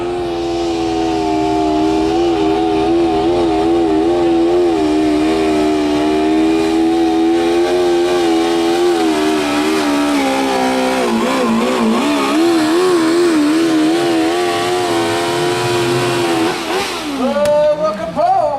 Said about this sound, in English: Lots of big stock tractor classes there, along with the modified tractor classes. Green flag down.